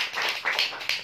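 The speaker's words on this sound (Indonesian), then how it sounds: "Tepuk tangan dulu orang-orang hebat" A brief burst of clapping from a congregation during a sermon, with a few distinct, fairly close claps in about a second.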